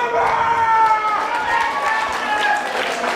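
A live wrestling crowd at a TNT Ignition show roars steadily in the arena behind Solas, a continuous loud wash of cheering under a commentator's voice.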